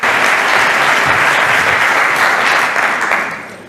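A large audience applauds loudly and continuously at an alumni annual meeting, a dense wash of clapping that holds steady before tapering off at the end.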